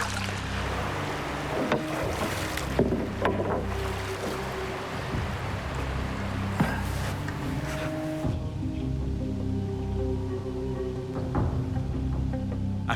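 Canoe paddling through Amazon jungle waters, steady splashes and strokes of the paddle with water sloshing against the hull, close and continuous with a low engine-like hum in the background.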